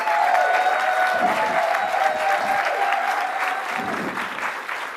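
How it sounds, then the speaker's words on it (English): Steady applause from a sizable audience, dense and continuous throughout, fading slightly toward the end. "Give him a massive, massive applause."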